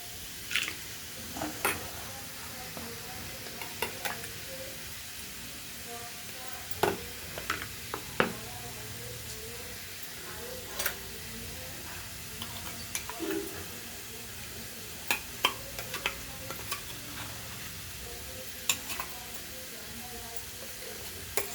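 Potatoes frying in a pan while being stirred, with soft steady sizzling and scattered scraping clicks from the spoon, fairly quiet, no talking.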